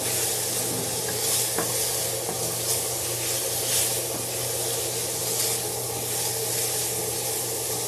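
Onions, mushrooms and peppers fry in pans, giving an even, loud, close sizzling hiss that holds steady throughout with faint stirring clinks and no speech.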